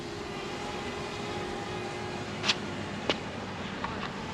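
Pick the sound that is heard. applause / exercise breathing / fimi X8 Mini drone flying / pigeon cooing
fimi X8 Mini drone flying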